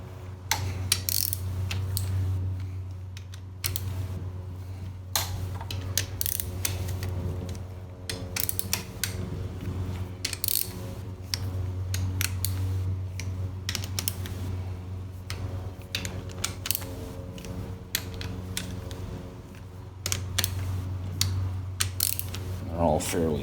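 A socket ratchet tightens bolts on a 4L60E transmission during a rebuild, giving repeated bursts of fast, crisp clicking close up, with short pauses between runs and a low steady hum underneath.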